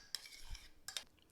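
A spoon stirring gelatin dissolved in boiling water into orange juice, giving a couple of sharp clinks against the container with soft swishing between them, close and fairly quiet.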